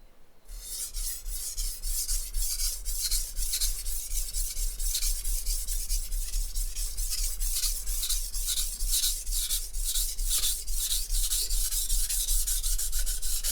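Knife with a bolster honed on a sharpening stone, a loud, close, rhythmic rasping scrape repeating in quick, even push-and-pull strokes for the whole stretch with no talk.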